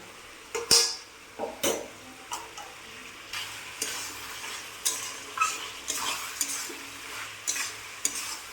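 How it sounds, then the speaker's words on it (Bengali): Chicken frying in a pan with Kashmiri chili powder, stirred with repeated spatula scrapes and clicks over a soft, steady sizzle, close and fairly quiet. "দিয়ে আবার এটাকে আমি কষলাম,"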